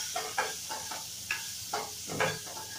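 Onions for a mixed vegetable curry sizzle and steam in a hot pan, a steady soft hiss broken by several brief louder crackles and stirring scrapes, close and without talk.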